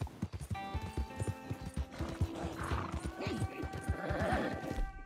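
A horse in the video game Red Dead Redemption 2 gallops with rapid, rhythmic clip-clop hoofbeats and gives a loud neigh midway, with a game music tone sustained underneath.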